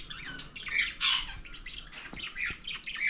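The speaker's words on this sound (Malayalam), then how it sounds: "ഇതൊക്കെ കുറേ പക്ഷികളുണ്ട് കേട്ടോ" Several birds squawk in loud, harsh bursts close by, calls overlapping and repeating in an irregular stream with no talking.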